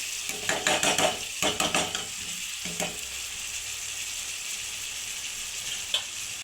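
Fish curry is stirred in a hot pan, with a quick run of rhythmic metal scrapes and clinks over a constant loud sizzle, then the sizzle continues alone with a single faint clink near the end.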